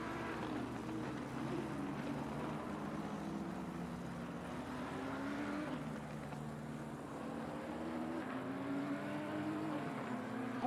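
Sim race cars at Silverstone, a McLaren running deep into Stowe corner chasing a Nissan, produce a faint, steady engine whine whose pitch rises and falls as the cars brake and accelerate.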